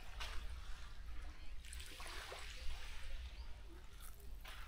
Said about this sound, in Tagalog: Ito yung dagat nila.